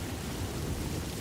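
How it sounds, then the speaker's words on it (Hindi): Heavy downpour in a cartoon storm, a dense, loud, unbroken hiss of rain with a low rumbling undertone like distant thunder, no voices. "तभी मूसलाधार की बारिश पड़ने लगती है।"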